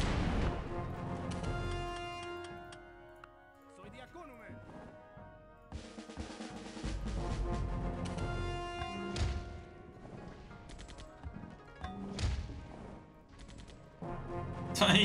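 Heavy battle sounds from Civilization IV, with machine gun bursts, booming impacts and crashes layered over game music, loud and dense across the whole stretch with brief lulls between flurries.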